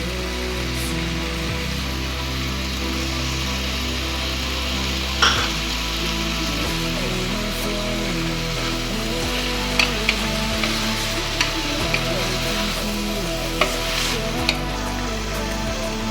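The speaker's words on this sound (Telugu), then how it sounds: "టమాటో వేసి బాగా కలుపుకోవాలా." Tomatoes fry and sizzle steadily in a pan, a soft continuous crackle with occasional light clinks and scrapes of stirring, fairly quiet and without any voices.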